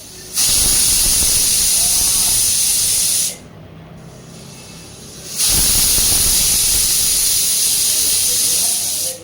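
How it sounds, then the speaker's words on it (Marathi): Pressure cooker on a gas stove cooking colocasia leaves, releasing loud continuous hissing steam whistles in two long bursts separated by a brief quieter gap. "इथे कुकर गॅसवरती ठेवलं आणि दोन ते तीन शिट्ट्या करून घेऊयात"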